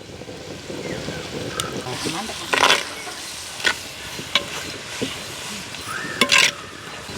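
Duck eggs frying with garlic, chili masala and turmeric in a pan, a continuous sizzle with a few sharp scraping stir strokes and clinks of a utensil against the pan.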